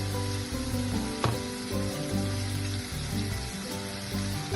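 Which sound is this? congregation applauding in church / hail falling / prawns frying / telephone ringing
prawns frying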